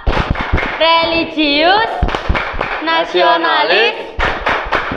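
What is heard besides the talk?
class doing rhythmic clapping chant Tepuk PPK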